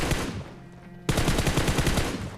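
Machine gun fire in the mobile battle royale game PUBG Mobile: a short burst, a brief lull, then a loud sustained rapid-fire volley of evenly spaced shots, close and harsh.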